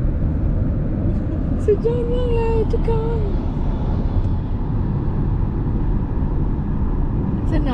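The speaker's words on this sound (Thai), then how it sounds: "เครื่องบินบินผ่านหัวเลย" Fixed-wing airplane flying low overhead on approach near the San Diego airport, a steady loud engine roar filling the whole stretch, with a person talking excitedly over it.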